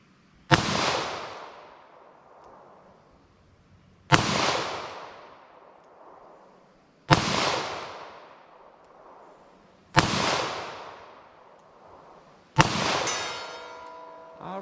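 Five sharp gunshots from Federal Hydrashok Deep .380 ACP rounds, spaced about three seconds apart, each a loud close crack with a decaying echo; the last shot leaves a brief metallic ringing.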